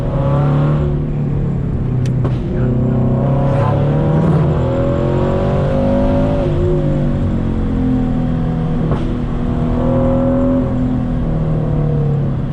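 Scion FR-S driven hard on the winding Tail of the Dragon road, a loud, steady engine drone throughout with wavering pitch as it pulls through corners; no distinct squeal stands out.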